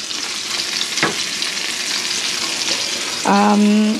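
Ghee going into a pan of frying mushroom and long bean curry gives a steady close sizzle with one sharp clink near the start and a brief tonal sound at the end.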